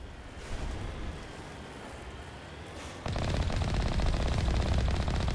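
Rapid automatic gunfire in the Mass Effect video game, a dense steady rattle of shots that grows louder and heavier midway, with no talk over it.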